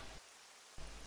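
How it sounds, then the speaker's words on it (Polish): Light rain in the F1 2016 racing video game at the Chinese circuit, a faint, steady hiss of falling rain that briefly thins out before returning. "czyli mamy lekki deszcz."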